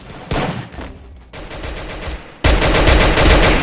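Automatic gunfire rattles in a video game, loud and close, in rapid bursts with short pauses between them before a heavier, denser volley at the end, with no talk.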